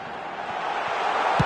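A stadium crowd in the eFootball 2026 video game roars steadily in a loud, continuous wash after a near-miss shot, with a brief thump near the end.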